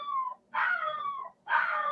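A dog howling and whimpering nearby in a home, three drawn-out, wavering high-pitched cries separated by brief pauses, with no talking.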